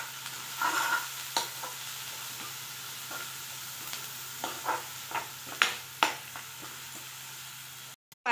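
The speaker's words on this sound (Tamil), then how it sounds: "சேர்த்துட்டு நல்லா கிளறி விட்டுருங்க" Onions with turmeric, cumin, salt and pepper fry in a pan while being stirred, the soft sizzle running steadily beneath a series of sharp scraping and tapping strokes of the spoon, close and without talk.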